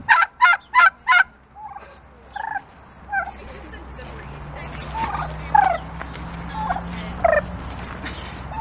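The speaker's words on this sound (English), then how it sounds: "Psst, hey, make some more noises." Turkeys gobble close by, starting with a burst of four rapid, loud gobbles. Scattered softer calls follow over a low background hum.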